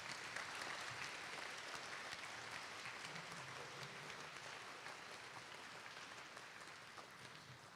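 An audience at a high school spring band concert applauds steadily, a dense wash of clapping from many hands that fades slightly toward the end, heard from within the hall.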